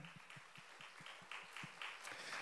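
A congregation at a youth worship service in a Full Gospel church claps together in a steady, even rhythm, faint and distant, with no talking over it.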